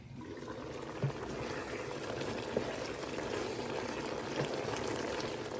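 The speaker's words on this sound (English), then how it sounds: "Let it come to a boil. And I'm going to put the lid on it." A pot of water coming to a boil under a lid on the stove, a steady close bubbling hiss with a few faint clinks, no talk.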